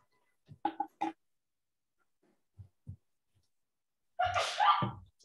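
A single loud, close sneeze after a few faint sniffs and small noises in an otherwise quiet city council meeting room.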